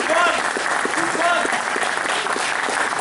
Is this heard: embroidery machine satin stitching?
no